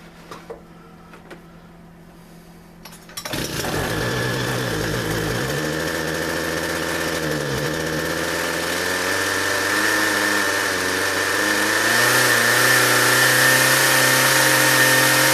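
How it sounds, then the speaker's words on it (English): After a few seconds of quiet handling noises, a small combustion engine starts up and settles into a steady, close, buzzing idle with slight wavers in pitch. "try to start up a small engine and stuff that's a combustible"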